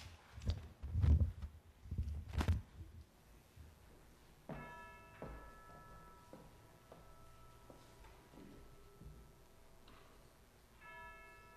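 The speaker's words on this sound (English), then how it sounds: "And as Joe sounds the chimes" Chimes ring out before a church worship service, a slow series of clear, sustained bell tones struck one after another. The notes are preceded by a few soft, low thumps and decay gently into a quiet room.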